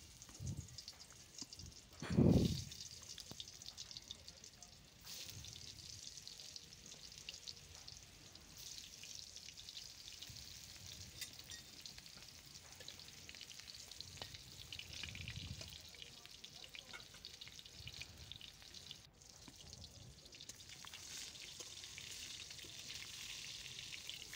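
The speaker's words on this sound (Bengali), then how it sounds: "নুন হলুদ মাখানো পটলটাকে এবার কড়াইতে দিয়ে দেবো একটা একটা করে।" Pointed gourd (potol) coated in salt and turmeric fries in hot oil in a wok, giving a steady, quiet sizzle with one brief louder spatter early on as pieces go in.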